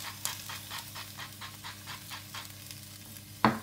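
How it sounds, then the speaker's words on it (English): Courgettes sizzle faintly in a hot pan with salt, a quiet crackling hiss pulsing in a regular rhythm as they are stirred, ending in one sharper clack near the end. "what I want to do is fry the courgettes"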